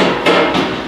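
A hammer strikes a masonry chisel twice in quick succession, close and sharp, the metallic hits ringing briefly with no voices.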